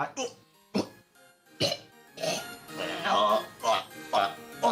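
A voice makes a string of harsh, gagging coughs and retching hacks in irregular bursts, imitating a creature straining to cough up a hairball.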